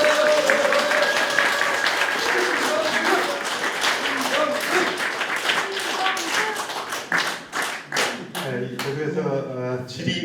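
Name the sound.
audience applause at a press conference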